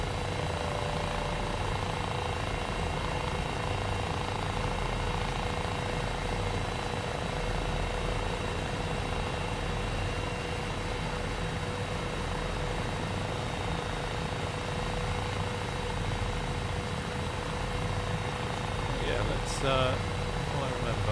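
Cowansim 500E helicopter in Microsoft Flight Simulator, its engine and rotor making a steady, unbroken drone that holds at an even level throughout, with faint talk briefly layered over it near the end.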